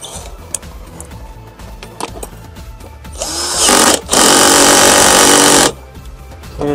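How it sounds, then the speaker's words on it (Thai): A power tool drives nuts home while a 10-inch subwoofer box is installed in an Isuzu car, starting with light clicks and handling, then a loud, steady whirring burst lasting about three seconds. "ไขน็อตตรงนี้ให้เรียบร้อยไขน็อตให้เป็นร้อย"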